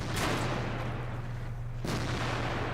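Heavy tank cannon fire in the World of Tanks game, with deep booming blasts and rumbling over a constant loud engine drone, one shot near the start and another toward the end.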